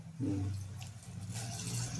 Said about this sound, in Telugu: కొద్దిగా నీళ్లు పోయాలి